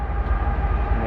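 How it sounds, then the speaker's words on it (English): A train rumbles past nearby at night near a drive-in, a steady low heavy roar with rail noise, loud and continuous with no talk over it. "Oh, there's a train back there. I was wondering what that noise was."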